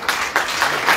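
Wedding guests cheer and clap inside a wedding reception hall, bursts of applause and voices rising in several waves across a brief, dense stretch of crowd noise.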